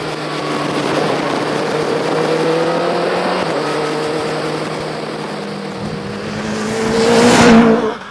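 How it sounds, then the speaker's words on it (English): A Caparo T1 track car drives through an S-bend, its engine note droning steadily with shifting pitch before rising into a loud, close surge of revs near the end, with no talking. "we've driven the Caparo T1"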